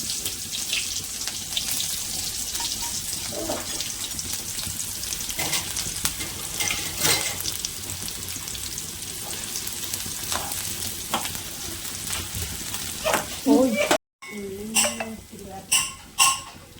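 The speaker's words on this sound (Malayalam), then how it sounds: "നമുക്ക് ഉള്ളി മൂപ്പിച്ചൊഴിക്കാം. രണ്ട് ചെറിയ സ്പൂണ് എണ്ണ ഇട്ട്" Onions sizzle in a couple of spoons of hot oil for a Kerala fish curry tempering, a steady frying hiss with occasional stirring scrapes, ending in a few sharper clatters after a brief cut.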